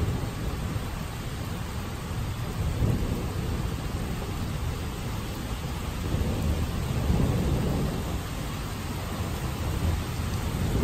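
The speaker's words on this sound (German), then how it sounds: "dann werdet ihr merken, da donnert es immer noch." Continuous low thunder rolls on and on without distinct cracks, a deep steady rumble blended with soft rain noise, heard from inside a building with no one talking.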